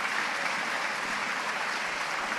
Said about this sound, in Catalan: Aplaudiments per a ells.